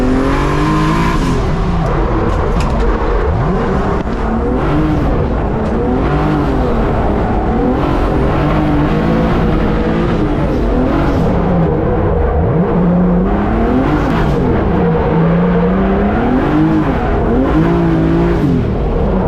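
A BMW E36 competition car at a track day, its engine roaring loudly and continuously as it revs up and down through gears with rising and falling pitch, tires occasionally squealing, no voices.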